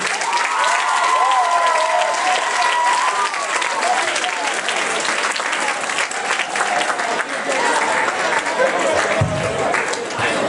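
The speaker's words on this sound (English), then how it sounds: "let's give a huge round of applause for all the people who compete" Sustained, dense applause from a talent show audience, loud and even for the full stretch with a few scattered cheers in the crowd.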